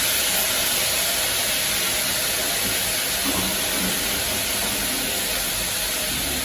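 Garlic sautéing in a pan over a raised flame for beetroot soup gives a steady, even hiss that runs unbroken from start to finish, with no voices.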